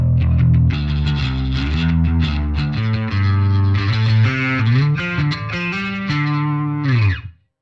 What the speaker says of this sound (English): But to have some good bottom boost, I will use distorted bass.